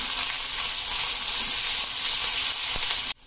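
Green chilies, grated ginger and curry leaves sizzle loudly and steadily in hot oil in a pan, a continuous bright crackle that cuts off abruptly near the end, no voices.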